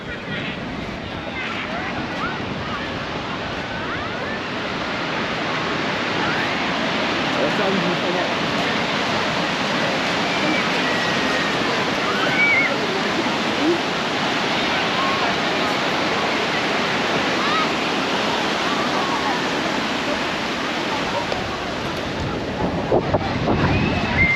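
Ocean waves break and wash onto a beach along Chapman's Drive near Cape Town, a loud, continuous surf roar with wind buffeting the microphone throughout.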